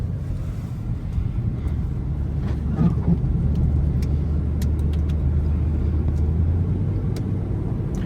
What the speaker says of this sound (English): Range Rover versus the snow